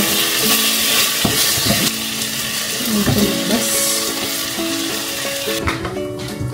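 Food frying with butter in a pan: a loud, close, continuous sizzle with stirring and scraping of a utensil against the pan throughout, no talk.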